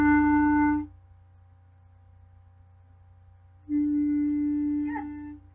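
A clarinet sounds a sustained E twice, each a steady harmonic-rich tone: the first about a second long, then silence, then a second longer held note near the end.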